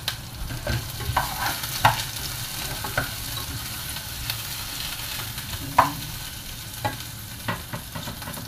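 Bones frying in a hot pan, a steady sizzle under scattered scraping clinks of stirring, close and moderately loud throughout with no talk.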